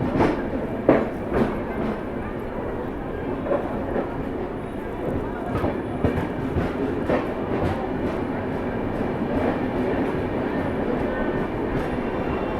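A passenger train at a busy railway station, where an express stands in the shunting yard: a steady low rumble with soft clickety-clack and metallic knocks continues throughout, with faint voices in the background.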